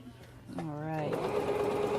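A sewing machine back-stitches at the end of a quilt seam, a steady close mechanical whir that builds after a short pause, with a person speaking briefly over it.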